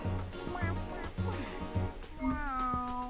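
A cat in the video game D4: Dark Dreams Don't Die gives a series of close, insistent meows, four short ones in quick rhythm and then a longer drawn-out cry, with a voice talking alongside.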